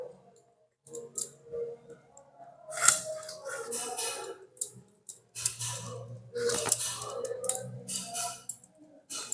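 Katla fish is cut into pieces with a knife: irregular clicks, scrapes and wet chopping bursts, some sharp and close, separated by short pauses, with faint murmuring in places.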